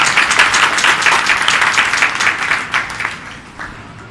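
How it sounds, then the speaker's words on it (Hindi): A church congregation at a Palm Sunday service bursts into loud, sustained applause that holds for a few seconds and then gradually thins out, with no talking over it. "खुदा के जलाल के लिए जोरदार तालियां चाहिए।"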